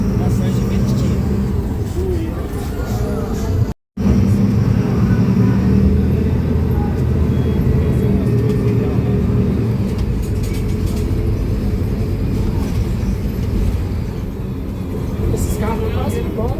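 Mercedes-Benz O500U BRT bus with Caio Millennium body and Voith transmission, a steady low engine rumble and road drone heard from inside, continuous and fairly loud, with passengers talking over it.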